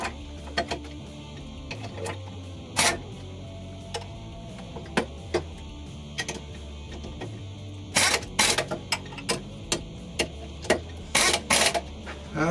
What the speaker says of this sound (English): Remember to turn the ratchet the other way.